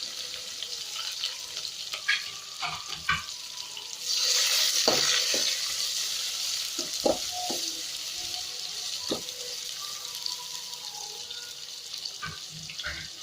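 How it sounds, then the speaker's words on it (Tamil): Chopped onion fries in the tempering for an Arabian biryani (majboos), giving a soft, steady sizzle with scattered clinks and scrapes of stirring close by and no voices. "இப்போ இது கொஞ்சம் தாளித்தோடனே நம்ம வெட்டி வச்சுருக்கக்கூடிய ஆனியனும் கொஞ்சம்"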